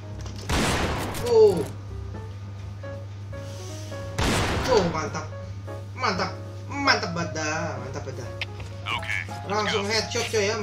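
Gunfire in the shooter game Point Blank, sharp shot bursts and blasts at intervals under near-constant excited talk, with a steady background hum throughout.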